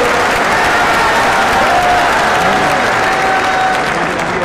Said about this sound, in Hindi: ताली बजानी है तो मजा आ गया करके जोर से